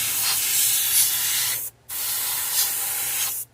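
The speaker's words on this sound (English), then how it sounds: "we're going to take and spray pearl white over this black" Airbrush or spray gun misting pearl white paint over a black base coat on a fishing lure, a steady close hiss in two long bursts with a short pause between.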